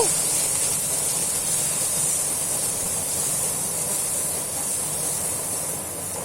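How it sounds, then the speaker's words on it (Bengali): Drained hog plums (amra) dropped into a hot pan and stirred, giving a loud, steady hissing sizzle that holds evenly for several seconds and eases slightly toward the end, with no talking. "এবার আমড়াটা ছেড়ে দেব। জলটাকে ঝরিয়ে নিয়েছি, ছেঁকে নিয়েছি। ওটাকে একটু নাড়াচাড়া করে নেব।"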